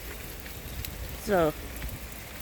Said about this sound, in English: any was we needed a nice gentle rain